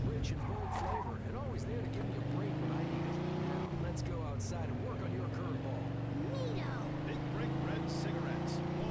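A car in the game Mafia 2 speeding past, a steady engine drone that rises and dips in pitch with some tire noise, sitting under ongoing talk.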